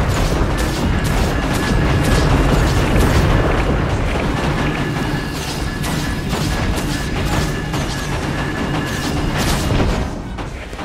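Fire area attacks in a Guild Wars 2 dungeon, the Ascalonian Catacombs, roar and crackle with dense rapid bursts and booming impacts, loud and continuous throughout the game action.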